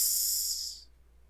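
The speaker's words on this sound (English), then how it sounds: "with that hissing sound, a light appears" A hissing burst from a trap contraption in a room, a loud high-pitched airy hiss that tapers off and dies out after about a second, leaving near silence.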